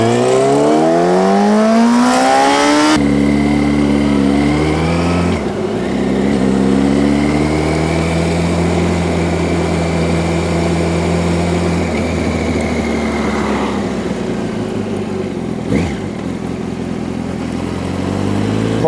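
A 2004 Yamaha R1 sport bike under way, its engine revving hard and climbing through the gears in loud, close, rising pulls with brief dips at each shift, no voices over it.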